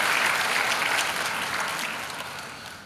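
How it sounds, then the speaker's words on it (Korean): A church congregation applauds warmly to welcome missionaries who are being sent to Tanzania, a broad wash of many hands clapping that slowly fades toward the end. "뜨거운 박수로 맞이하도록 하겠습니다"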